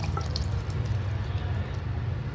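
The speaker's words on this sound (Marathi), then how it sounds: "नवीन अर्धा एक मग पाणी आत्ता टाकलेलं आहे" Water pours from a mug into a cooking pot on a stove, giving a short, steady splashing gurgle with a low, full tone that runs without a break.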